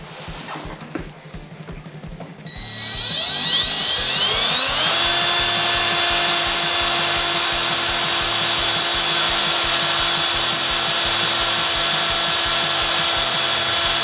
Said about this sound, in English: we're going to knock a hole through this square tube